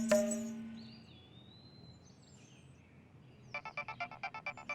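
A phone ringtone plays as a quick run of evenly pulsing electronic chimes near the end, faint in a quiet room after a brief tone at the start.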